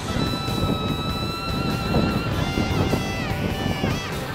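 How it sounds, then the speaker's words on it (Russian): Strong wind roars steadily and loudly across the microphone outdoors, with a continuous broadband buffeting and a faint tonal hum running beneath it throughout. "ветрище"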